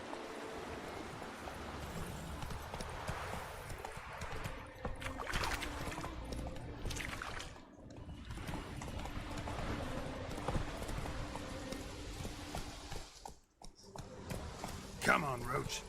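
Hooves of the horse Roach clip-clop at a steady gallop across a video game landscape, continuous and fairly loud through most of the stretch, with speech also present.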